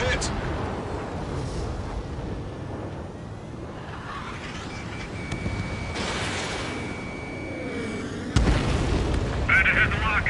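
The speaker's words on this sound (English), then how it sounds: "Missile hit!" A missile strikes and explodes in the Ace Combat jet combat game: a steady, dense roar of rumbling engine and battle noise runs throughout, then a sudden loud, close blast bursts in near the end, with voices talking over the din.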